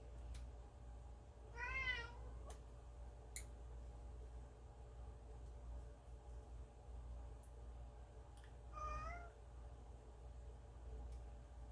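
A pet cat named Gibson gives two separate meows, one early and one later, close by over a steady low background hum, with a couple of faint ticks between and no talking.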